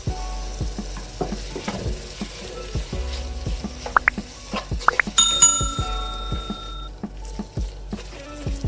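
Curry leaves, coriander and mint drop into hot biryani masala for Thalassery chicken dum biryani, giving a sizzle with stirring and scraping clatter and a few bright metallic rings from utensils, close by and without talk.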